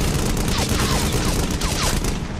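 Loud, rapid bursts of automatic gunfire fill a Damnation game cutscene, a dense fusillade of overlapping shots sustained for a couple of seconds with no talk.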